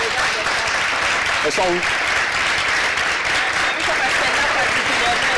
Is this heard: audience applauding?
yes